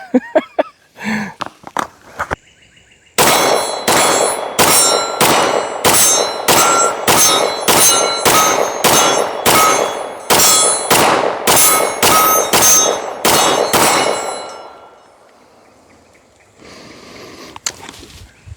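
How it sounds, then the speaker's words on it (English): Canik TP9 Elite Combat pistol fired at an outdoor range, a quick string of about twenty loud, sharp gunshots in steady rhythm, each with a metallic ring, after a few fainter knocks and followed by quieter handling sounds. "we just got done shooting out on the range with the Canik TP9 Elite Combat."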